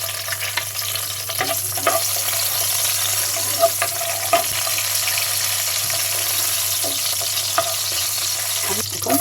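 Whole spices (bay leaf, cardamom, cinnamon, clove and peppercorns) sizzle in hot oil for a duck curry with coconut milk: a steady, close frying hiss with scattered crackles and pops, and no talking.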